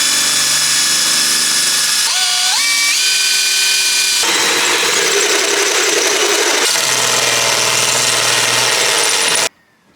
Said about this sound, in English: So now we just need to drill the additional holes on the other side